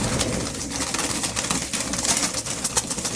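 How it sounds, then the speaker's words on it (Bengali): A Kalsira pigeon coos close by among other pigeons, its soft calls sitting over a steady, noisy background throughout. "এই পায়রাটা কালসিরা পায়রা না?"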